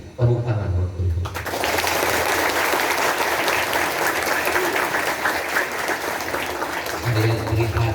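Students and teachers at MTSN 1 Kotabaru burst into loud, dense applause for the teachers during an Isra' Mi'raj talk, sustained for several seconds with a voice heard briefly before and after.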